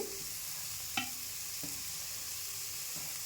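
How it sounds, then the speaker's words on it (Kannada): Chopped dill greens hitting a hot pan and frying, with a soft steady sizzle and a few light stirring scrapes, close and quiet, no voices. "ಇವಾಗ ಕಟ್ ಮಾಡಿರೋಂಥ ಸೊಪ್ಪನ್ನು ಸೇರಿಸ್ಕೊತಿದ್ದೀನಿ"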